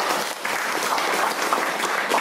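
Steady, dense audience applause at a stand-up comedy show, a full room clapping loudly and evenly throughout without any talking.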